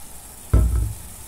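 Dendê palm oil heats in a cooking pan, a short, close sizzling burst that starts suddenly midway and trails off.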